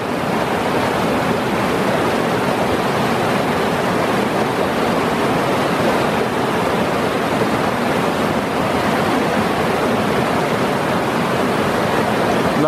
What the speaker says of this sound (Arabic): هذا النهر الجاري الجميل الذي لا يبعد عن الفيلا إلا أمتار قليلة جدا